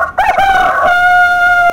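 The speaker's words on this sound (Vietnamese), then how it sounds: "gà trống này" A rooster crows once, loud and close, a long rising then held call with strong harmonics, used as a sound effect in a Scratch animal-sounds project; no one talks.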